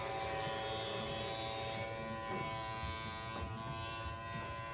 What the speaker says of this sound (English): So here I'm actually starting with that Andis Master cordless